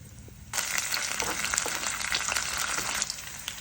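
Ginger garlic paste and curry leaves hit hot oil and burst into a loud, sudden sizzle that keeps crackling steadily, close up, with faint spattering pops.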